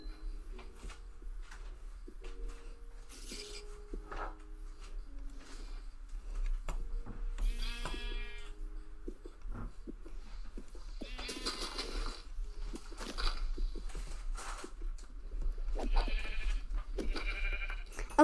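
Sheep in the Minecraft video game bleat several times, in short wavering calls scattered across a quiet game soundscape with light clicks and footsteps.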